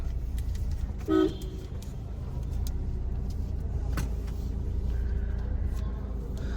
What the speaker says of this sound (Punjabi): ਖੜ ਜਾ ਹਾਰਨ ਮਾਰਨਾ